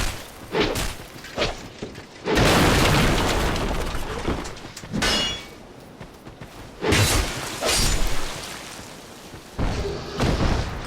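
In the Dark Souls II game, a boss fires projectiles at the player, producing loud booming impacts and crashing bursts that recur through the stretch, mixed with thuds and roaring blasts.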